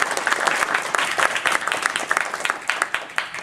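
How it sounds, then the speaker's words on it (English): Audience at a community panel on police response to mental illness applauds the volunteers, a lively burst of many hands clapping at close range with uneven, rippling peaks throughout. "Can we have a big round of applause for them?"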